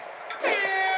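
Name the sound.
horn honking in the video game Splatoon Raiders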